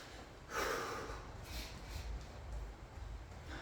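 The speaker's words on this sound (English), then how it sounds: "So inhale, exhale, inhale," Heavy rhythmic breathing during a garage workout, a few loud breaths drawn in and pushed out at close range over a low background hum.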